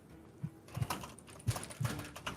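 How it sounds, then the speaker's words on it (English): Computer keyboard keys click in a few separate, uneven taps during a tabletop Vampire: The Masquerade session, fairly close and quiet, with no talking. "Typing."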